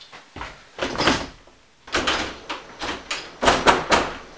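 A jammed door is tried and rattled, with repeated bursts of clattering and thumping as it is pulled and shaken, fairly close and moderately loud, with short pauses between attempts.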